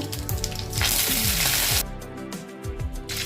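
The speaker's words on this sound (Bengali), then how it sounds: "এখন আমি এই সর্ষেটা আর শুকনো লঙ্কাটা ফোড়ন দিয়ে দিলাম" Mustard seeds and dried red chillies hit hot oil for fried rice tempering, a loud, dense sizzle with crackling pops that swells and then settles, close and alone with no talk.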